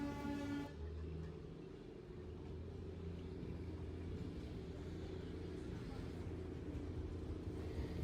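A Darjeeling Himalayan toy train runs on its mountain line with a steady, close rumble and clatter that fills the whole stretch, a short tonal horn-like sound opening it.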